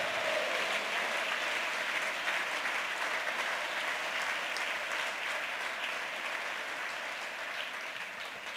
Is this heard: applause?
yes